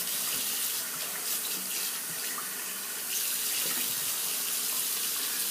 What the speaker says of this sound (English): So I'm just going to wash the brush off